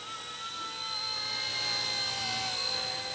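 RC Era mini Airwolf Bell 222 radio-controlled helicopter in flight, giving a steady high-pitched electric motor whine and rotor buzz that rises slightly and holds at close range, with no talking.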